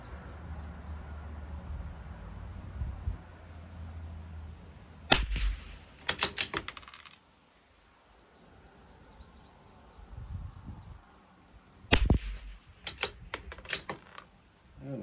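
A CZ 457 LRP rimfire rifle fires with Lapua and SK ammunition, two distinct sharp shot bursts with rattling echoes, separated by quiet stretches of low background noise.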